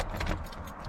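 Car keys for a V6 Ford F-150 jingle briefly and close by, a quick metallic rattle of a few clinks lasting about a second.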